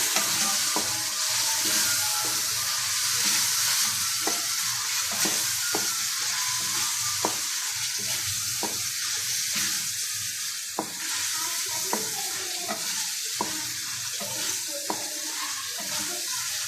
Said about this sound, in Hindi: इसको अच्छे तरीके से मसाले में भून लें ताकि सारी अरबी में मसाला अच्छे तरीके से रच जाए।